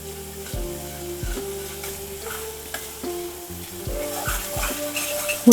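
Onion frying and being stirred in oil in a pan for a spicy egg curry, with a steady close sizzle, repeated scraping stirs and a louder clatter at the end, no talk.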